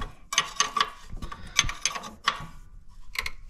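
A nut tightens on the shifter cable of a Polaris General utility vehicle with a wrench, giving several short metallic ratcheting clicks in quick bursts, close and fairly quiet.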